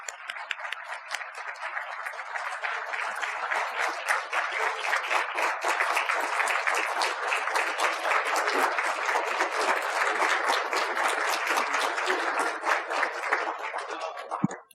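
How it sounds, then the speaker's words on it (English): An audience at the 2023 Veterans Florida Expo applauds the arriving guest speaker, Florida Lieutenant Governor Jeanette Nuñez, with steady, dense clapping that holds at an even level for about fifteen seconds before cutting off. "Give her a round of applause, please."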